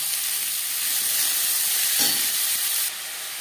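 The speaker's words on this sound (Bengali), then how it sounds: "মাছ ভেজে নেওয়ার তেলে দিয়ে দেবো পেঁয়াজ কুচি" Chopped onions hitting hot oil already used to fry tilapia, a loud, close, continuous sizzle with a brief stirring scrape midway before the hiss eases slightly. No talking.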